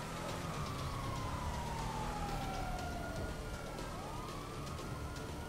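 Police car siren wailing in a video game chase, a sweeping tone rising and falling over a steady engine and traffic rumble, loud and continuous throughout.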